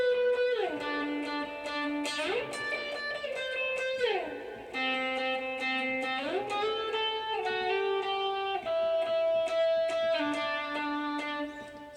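Electric guitar plays the lead part of a song, a melodic line with frequent slides between sustained, ringing notes, steady and moderately loud with no talking.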